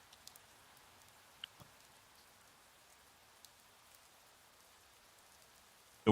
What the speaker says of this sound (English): Raindrops fell from the dark sky.